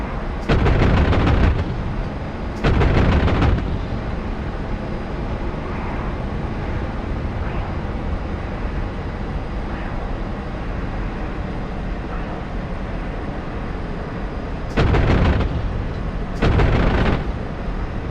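Heavy bursts of rapid aircraft cannon fire in the DCS flight simulator, in a MiG-15bis versus F/A-18C Hornet fight, come in short volleys, two early and two late, over a steady loud engine roar.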